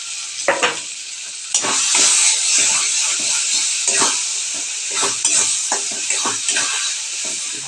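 Taro paste (kochu bata) being stirred and fried with hilsa fish and green chillies in a pan, a loud steady sizzle with repeated scraping stirs of the spoon, close and continuous.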